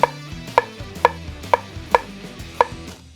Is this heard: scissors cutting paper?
no